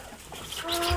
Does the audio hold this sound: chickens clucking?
yes